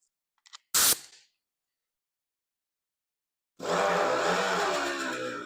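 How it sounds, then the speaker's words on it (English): A grinder with a 2-inch roll-lock abrasive disc strips paint from a 1964 Ford Falcon fender: a few sharp clicks and a brief burst, a silent pause, then a loud steady whirring grind. "I'm just going to use a roll-lock disc. We call these a cookie, just like a Scotch-Brite pad on a grinder."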